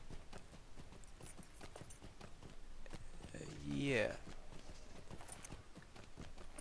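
Hoofbeats of a goat mount trotting over rocky ground in a Middle-earth video game battle, a steady clip-clop rhythm running throughout, with a brief louder burst of movement midway and a short spoken word over it.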